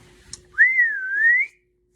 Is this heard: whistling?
yes